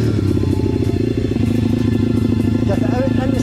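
A pit bike engine revs under throttle, a steady loud buzzing drone that lasts the whole stretch, with speech mixed in over it.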